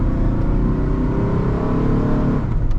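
The 4.0 V6 engine of a 2000 Ford Ranger x-cab 4x4 Sport accelerating, a loud, steady, rising drone heard from inside the cab without talk.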